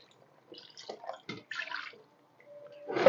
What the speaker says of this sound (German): Ich gieße jetzt noch mal ein bisschen auf.